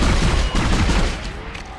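Loud, close bursts of rapid gunfire from weapons in the sci-fi horror game Dead Space, a dense volley of overlapping shots with a booming low end, tapering off near the end.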